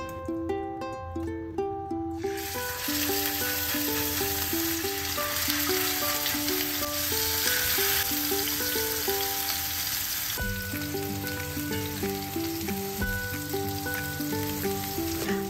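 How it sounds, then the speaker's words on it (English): Meat patties shallow frying in olive oil in an iron skillet, a continuous steady sizzle and crackle with background music playing over it. "Using an iron skillet is best for shallow frying."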